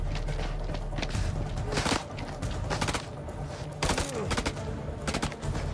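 Bursts of rapid gunfire in the video game House of Ashes, loud and close, in several volleys separated by brief pauses.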